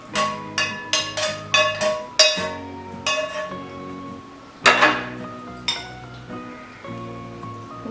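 Drained boiled potatoes tipped into a pan and stirred for a home lunch, giving a run of close clinks and scrapes of utensil on metal, with several sharp knocks early on and a louder clatter midway.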